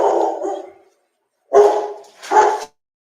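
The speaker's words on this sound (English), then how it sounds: "Sorry about the dog." A dog barks loudly and close, three heavy woofs, one long and then two quick ones after a short silence, with no voices underneath.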